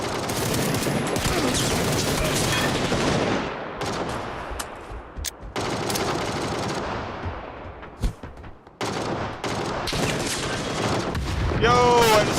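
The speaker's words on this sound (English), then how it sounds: "Yo, I just got him with that grenade." Battlefield combat: dense bursts of gunfire and machine-gun rattle with booming explosions, including a grenade blast, loud and near, broken by brief lulls, with players talking over the action.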